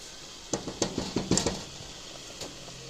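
Several quick metallic scrapes and taps of a utensil stirring spaghetti in a pot outdoors, clustered together, then a single lighter clink against a soft background hiss.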